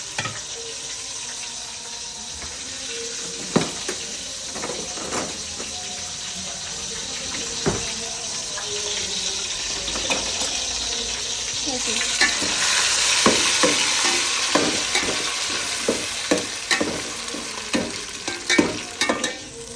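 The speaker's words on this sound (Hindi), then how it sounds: "यहाँ मैं कीमा डाल रही हूँ।" Minced meat (keema) frying in a pan at home, giving a steady close sizzle with repeated clinks of stirring, and running water joining partway through, with no talking.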